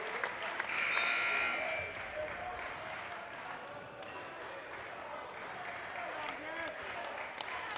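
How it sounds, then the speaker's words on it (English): Gym crowd at a high school basketball game applauding steadily, a broad wash of clapping with background chatter, a faint whistle-like tone and sneaker squeaks, swelling briefly near the start and then holding level. "Garrett McLaughlin, a nice round of applause."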